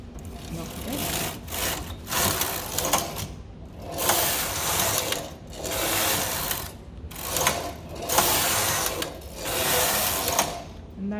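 Knitting machine carriage swept back and forth across the needle bed during an alternative cast on, giving repeated rattling, ratcheting passes of a few seconds each with short pauses between them, close and steady.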